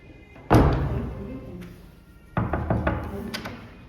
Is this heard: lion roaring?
no